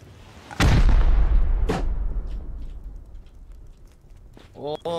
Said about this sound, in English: Oh my god, they're firing rockets and everything